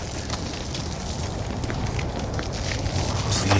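A campfire burns in the video game Ghost of Tsushima, giving a steady, close crackle and hiss that builds slightly over a few seconds, with a wind-like rush underneath.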